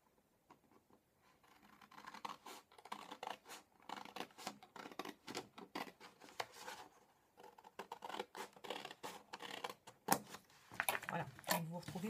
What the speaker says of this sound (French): Vous prenez donc une paire de ciseaux et vous coupez une partie seulement